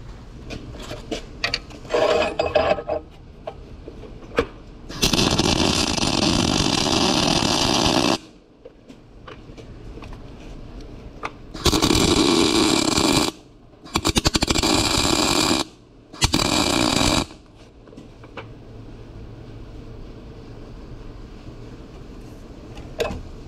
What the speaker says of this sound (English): So let me weld that up and see how that looks.